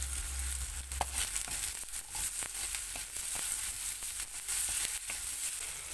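Finely chopped onion sizzles steadily in a hot frying pan with salt, a constant bright hiss with a few light clicks and stirring scrapes, close and without speech.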